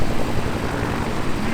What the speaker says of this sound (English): the sound of those mighty blades slapping there